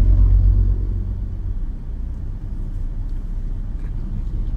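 A car engine pulls steadily through a driving lesson on a public road, a low continuous rumble that starts slightly louder and settles into an even drone, with no talk over it.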